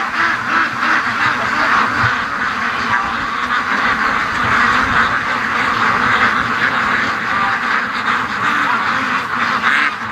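Ducks quacking outdoors in strong gusty wind, a dense continuous chorus of calls mixed with loud wind rumble buffeting the microphone, steady and close.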